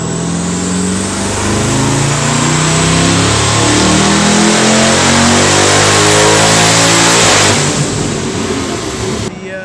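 A car engine making over 1000 rear-wheel horsepower on pump gas roars through a full-throttle dyno pull, loud and close, its pitch climbing steadily before the throttle lifts near the end.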